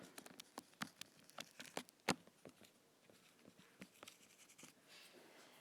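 Numbers are written out by hand in quick, separate scratchy strokes and taps, close and fairly quiet, coming in irregular bursts with short pauses and no voice.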